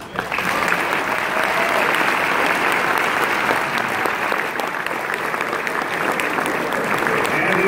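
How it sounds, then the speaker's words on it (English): A dinner crowd at an auto racing Hall of Fame induction and 500 old-timers banquet applauds honored guests, a dense, sustained roar of clapping that holds steady and loud from start to finish. "Applause, please."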